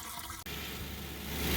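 Water pours steadily into the radiator of a Ford Crown Victoria Police Interceptor, a continuous close rushing gurgle of filling liquid, alone and growing slightly louder toward the end.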